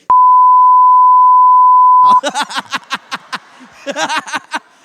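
A loud steady bleep tone holds for about two seconds, then cuts off as a voice starts speaking.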